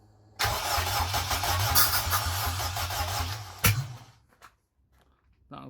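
A K-swapped Honda Civic EJ9 engine cranks and fires for its first start, a loud close rumble with steady pulsing for about three seconds, a sharp bang, then it dies away into near silence with faint clicks.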